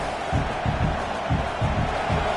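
A large stadium crowd at a college football game keeps up a dense, steady roar with rhythmic surges of chanting or clapping, filling the air continuously without a break.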